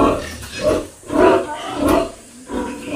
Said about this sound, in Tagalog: marami silang baboy